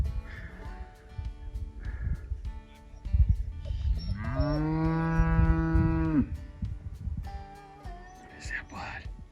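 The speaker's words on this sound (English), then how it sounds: "This cow likes hearing his echo." A cow's long, deep moo rings out for a couple of seconds, close and loud, echoing slightly, with quieter rustling and faint whispers before and after.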